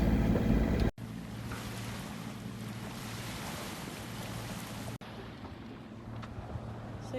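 Steady low engine drone of a sailing boat motoring at about 5 knots across the Bay of Biscay, with wind and water rushing around it; one abrupt break partway through.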